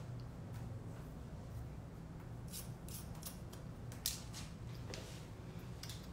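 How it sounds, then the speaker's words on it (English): Scissors snip hair during a short shag haircut, a series of quick, crisp, close clicks in irregular bursts over a constant low background hum, without talking. "tipping my fingers out to create a little bit of length. Out, and then just cutting that hair off."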